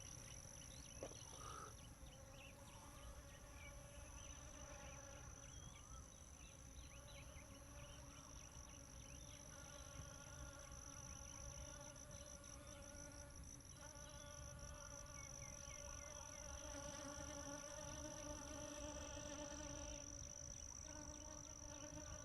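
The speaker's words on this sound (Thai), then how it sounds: "งดใช้เสียงแล้วให้ฟังเสียงผึ้งนะครับ ว่าผึ้งเยอะจริงๆ" A dense, continuous drone of a bee swarm hums at a low, even level throughout, with a faint high whine above it and no talking.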